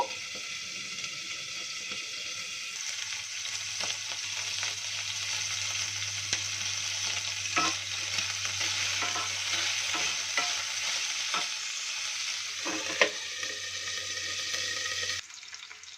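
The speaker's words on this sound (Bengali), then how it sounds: "আদা আর রসুনের পেস্টটা দিয়ে কিন্তু কিমাটাকে আমি একটু ফ্রাই কিন্তু করেই নিয়েছি।" Minced meat sizzling in a pan with ginger-garlic paste, a long, steady fry with occasional stirring clatter and a low hum underneath, and no voices.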